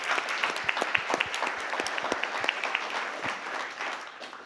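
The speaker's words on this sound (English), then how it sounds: "So let's please give them a round of applause." Audience applause at a panel session of a fall forum, many hands clapping with distinct sharp claps over a steady patter, fairly close, gradually thinning toward the end, with no talking.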